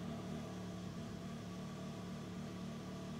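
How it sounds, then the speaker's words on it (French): A Can-Am X3 DS Turbo RR side-by-side idles steadily after starting, a low, even engine hum that holds constant and close with no talking. "Tout ce qu'on entend, c'est le ronron patapon du moteur."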